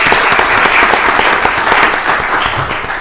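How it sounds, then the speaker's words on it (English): A large crowd applauds steadily at a county board of commissioners meeting, dense clapping filling the space at full volume before easing slightly toward the end. "Let's give them all another round of applause."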